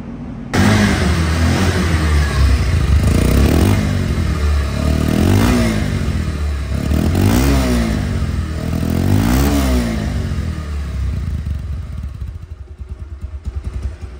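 A 2023 Bajaj Pulsar double-disc ABS motorcycle, secondhand but in showroom condition, idles with a steady throaty engine note and is revved repeatedly in rising and falling sweeps, loud and close, with no talking.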